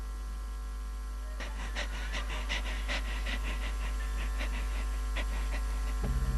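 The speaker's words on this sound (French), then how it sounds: "Qu'est-ce que c'est que ce halètement?" Rhythmic heavy panting, a series of quick breathy pulses over a steady low hum, ending with a short louder noise.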